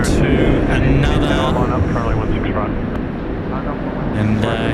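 China Eastern airliner at Sydney Airport, a loud, steady jet engine roar that holds throughout, with a voice talking over it.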